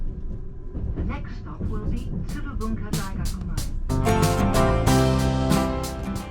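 The Fuji Excursion train runs onward after leaving Otsuki station, with a steady interior rumble and rolling rhythm that grows louder and denser partway through.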